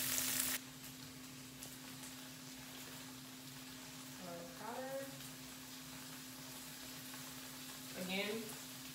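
Green beans sauteing in a pan with garlic powder and pepper, a faint steady sizzle under a constant hum, with a couple of brief higher scraping stirs partway through.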